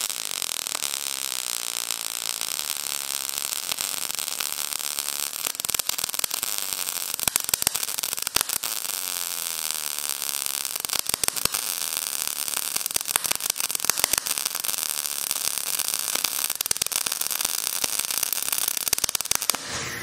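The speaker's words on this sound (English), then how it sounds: "We just welded" A MIG 200i welder lays a bead at -3 volts, producing a continuous harsh crackling arc buzz with sharp pops, steady and close for the full length.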